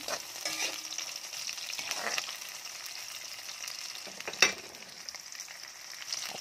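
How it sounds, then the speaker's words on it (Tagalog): Scallops fry in a pan with a quiet, steady sizzle and light hiss, broken by a few soft clinks and one sharper utensil knock near the end, no voices. "so lutuin lang natin ng scallops natin"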